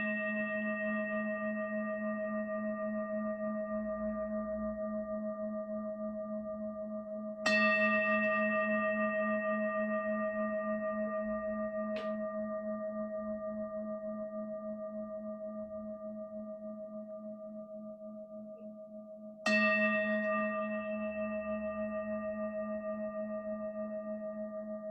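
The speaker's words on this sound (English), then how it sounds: "tracking the sound of bells all the way to the end" Meditation bells ring out alone in a quiet room, three separate strikes with long sustained tones that slowly decay between them, clear and fairly close.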